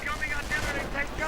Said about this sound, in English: And we are hearing artillery going in.